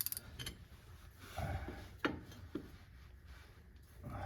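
Press being tightened on the front axle knuckle of a 1997 Jeep XJ during hub and knuckle removal, faint creaks and mechanical clicks with a few sharp metallic ticks, close in a quiet garage, no talk.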